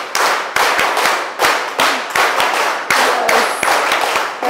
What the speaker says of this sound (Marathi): मी म्हटल्यानंतर सगळ्यांनी आशा टाळी मॅडमसाठी द्यायची आहे